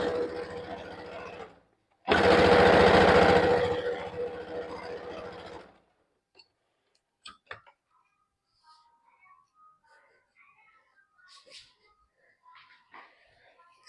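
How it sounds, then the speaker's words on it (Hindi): A sewing machine stitches pant fabric in one loud, dense burst of a few seconds. Quiet handling noises and scattered soft clicks follow it. "एक बार एक फिर से हम इस पे सिलाई चलाएंगे।"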